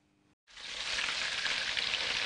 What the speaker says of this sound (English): During the time that Anne fries the prawns, Sarah chops the leeks